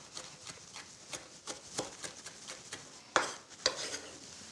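Cooked mussels being stirred with chopped parsley in a pan: faint, soft scraping and shell clinks in an irregular rhythm, with two brighter clacks near the end over a low background hiss.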